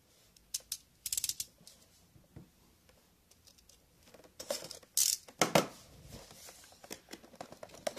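Rustling, tapping and tearing of cardboard and plastic packaging as the box of a Takara Tomy Masterpiece MP-55 Nightbird Transformer toy is opened by hand, close up, in irregular bursts with quiet gaps between.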